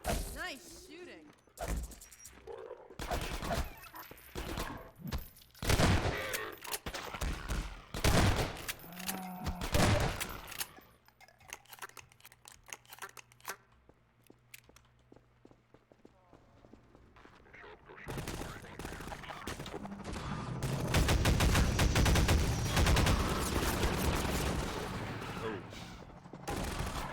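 Gunfire bursts in a Half-Life 2 gunship fight, with rapid volleys and sharp shots coming in clusters, then a louder sustained roar of firing and explosions toward the end.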